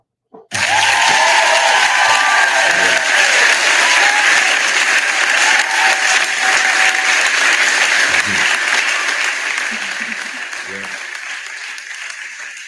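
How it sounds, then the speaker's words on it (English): A canned applause sound effect from an applause button, a burst of clapping and light cheering that starts abruptly and holds steady for about twelve seconds before slowly fading, with a voice speaking briefly beneath it. "Hit that applause button."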